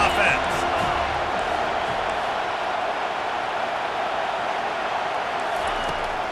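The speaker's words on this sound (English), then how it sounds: "this crowd is making it miserable on this offense" Dense stadium crowd roar from the College Football 25 video game fills the whole stretch, a steady loud wash of many voices with brief louder swells near the start, with speech likely mixed in underneath.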